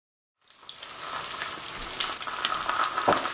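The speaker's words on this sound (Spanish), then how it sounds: "los vamos a freír y los vamos a retirar también del sartén" Shrimp marinated in soy sauce fry in a pan, a steady close sizzle that builds after a brief silent start, with light crackles and pops throughout.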